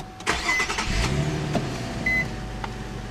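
A 2009 Infiniti FX35 is push-button started inside the cabin, a short crank and engine catch rising into a steady idle, with a couple of brief electronic chimes and soft cabin clicks around it.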